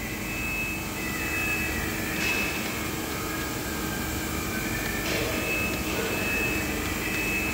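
A CNC milling machine spindle turning at 3000 rpm gives a steady, close, unbroken mechanical whir with a thin high whine held constant throughout.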